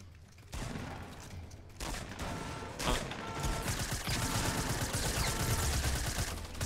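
Rapid gunfire from Fortnite Battle Royale, a loud, dense fusillade of overlapping shots that keeps up almost continuously through the clip, with no voices over it.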